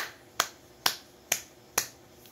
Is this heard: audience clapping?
yes